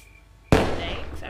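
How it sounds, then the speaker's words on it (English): Fireworks set off in the Roblox game Rocitizens during a Christmas event: one sharp, loud launch burst followed by a sustained, crackling, hissing tail that fades slowly, heard alone. "that's the fireworks"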